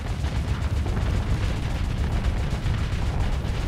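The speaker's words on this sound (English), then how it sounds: "Let's activate the gun again." A ship's gun fires in the Starsector space game, making a dense, continuous roar of rumbling blasts that stays loud and unbroken throughout.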